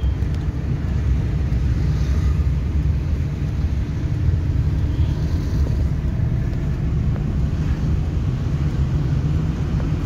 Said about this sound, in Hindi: अभी हमारी गाड़ी फ्रेंड्स सेकंड गियर में चल रही है